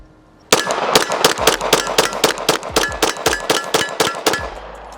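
A Glock pistol fires a rapid string of about eighteen close, loud shots from an ETS magazine, each crack ringing with a metallic clang, the sequence fairly steady and alone after a brief quiet start.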